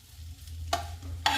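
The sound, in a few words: stirring tamarind rice in a pan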